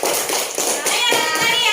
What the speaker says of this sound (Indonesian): tepuk tangan untuk Heriadi